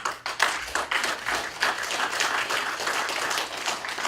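A modest audience claps in a hall, starting with a few scattered claps and building into a brief, uneven round of applause that stays fairly thin.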